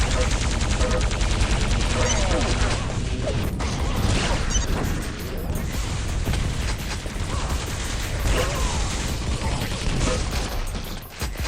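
Rocket launcher fire and explosions from Quake 3 Arena on the Camping Grounds map, a dense, loud, continuous barrage of blasts and impacts mixed with other weapon fire throughout.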